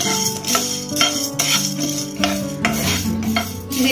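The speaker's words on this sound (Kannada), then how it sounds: "ಉದ್ದಿನಬೇಳೆ ಹಾಕ್ತಾ ಇದ್ದೀನಿ, ಒಂದು ಸ್ವಲ್ಪ ಲೈಟಾಗಿ ಹುರ್ಕೊಳ್ಳಿ" Urad dal dry-roasting without oil in a pan for sambar powder, stirred with a metal spoon that scrapes and clinks against the pan in repeated strokes, close and fairly loud, with no talking.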